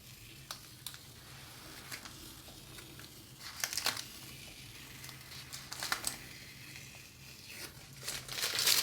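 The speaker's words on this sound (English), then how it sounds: "So just remove this tape." Masking tape peeled away from a watercolour painting of the ocean, heard as a run of dry crinkling rips and crackles that build in bursts, close and fairly quiet, with no talk.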